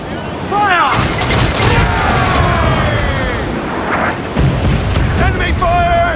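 Ship cannons fire in a naval battle in Assassin's Creed IV Black Flag, a loud sustained barrage of booming blasts with a second burst later, under shouting crew voices.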